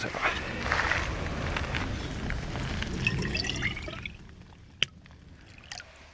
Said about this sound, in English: I'm just going to fill this up and then use it to fill up my 2-liter bag because it's easier to pour into it